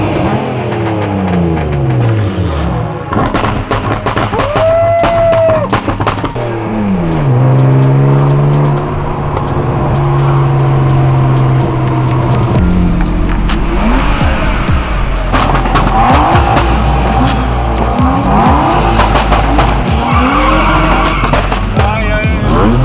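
A drift car at the Drifting Festival city parade in Daugavpils, Latvia, revs hard and skids with long squealing tire slides and engine roars, close and loud throughout, with bursts of throttle and occasional voices.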